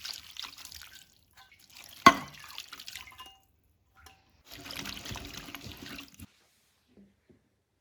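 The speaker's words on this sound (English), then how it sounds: "I'm also going to add 1 OXO cube, 2 cups of water." Water from a cup splashes into a roasting pan for a pork leg roast with an OXO cube, in two separate pours: a brief splash, then a longer trickling stream, close by with no talking.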